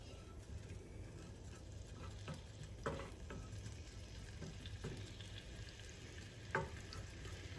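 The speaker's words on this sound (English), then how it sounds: "This is starting to sizzle." Steady frying sizzle of garlic in a pan, with soft crackles and a few sharper clicks and taps scattered throughout, no voices.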